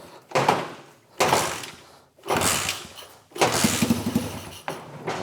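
A Honda CT70 motorcycle fitted with a 90cc Lifan engine, running close by in loud, rough bursts of revving with short dips between them.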